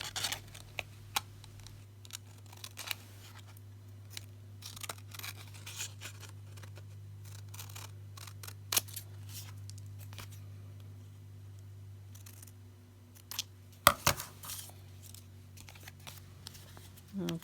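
Scissors cutting a paper tag to fit, giving faint scattered snips and clicks over a low steady hum, with a sharper cluster of cuts near the end.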